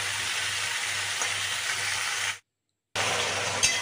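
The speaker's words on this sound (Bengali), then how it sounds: "এমনি এর সাথে নাড়াচাড়া করে একটু ভাজা ভাজা করে নেবো" Ridge gourd and potatoes stir-frying in a pan give a steady, close sizzle with faint stirring scrapes, cutting out briefly to silence before resuming just as loud.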